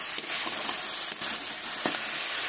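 Fish curry masala is sautéed in a pan, producing a soft steady hiss and sizzle with a few faint stirring clicks.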